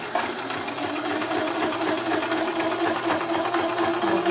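Sewing machine stitching a seam on fabric, a fast, even rapid-fire chatter of the needle running continuously at close range without any speech.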